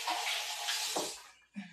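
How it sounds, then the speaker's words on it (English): Water runs steadily from a tap as hands are washed, a brief hiss with small splashes, then a short break. "Let me wash my hands."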